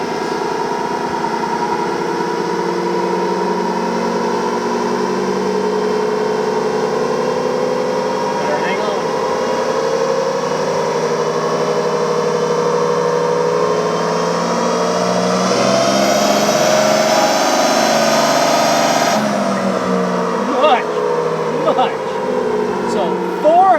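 An 800-horsepower fifth-generation Cummins diesel with a Tater Built turbo runs loud and steady on a dyno in fifth gear, with a deep droning roar that swells into a higher whine around the middle before settling, heard close up without talk.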